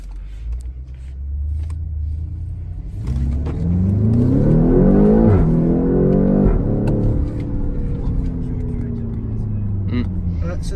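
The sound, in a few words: BMW X6 M engine revving with gearbox in sport mode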